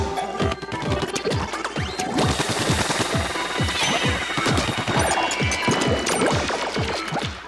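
Rapid, steady gunfire from enemies in the Splatoon single-player mode crackles without pause, a dense run of sharp repeated shots layered with splashy impacts and game noise.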